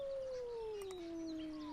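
A single long wolf howl from the video game Ymir slowly glides downward in pitch. It sounds fairly faint and distant, with no talk over it.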